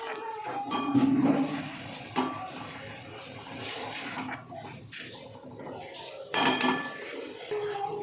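Roasted coconut and peanuts being stirred and sautéed in a pan for a Vidarbha-style sambar vadi filling: steady scraping and clinking of a spoon against the pan, continuous and close, with a few louder knocks.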